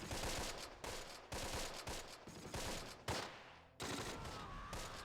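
Squad gunfire in the WWII tactics game Close Combat: a dense run of sharp shots and bursts across the whole span, loud and close, with short pauses between volleys and no talk.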